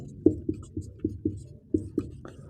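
Pen or chalk writing out a geometry area formula during a Class 10 maths lesson, heard as a series of short scratchy taps and strokes at a steady, unhurried pace, close and fairly quiet with no talking.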